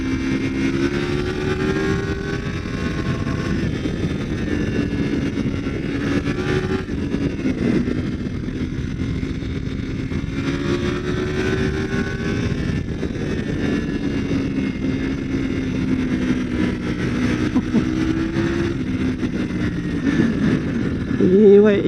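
A 2022 Triumph Tiger 900 GT Pro motorcycle rides through bends and a roundabout, its engine droning steadily with gentle rises and falls in pitch amid constant wind rush, while a rider talks over it throughout.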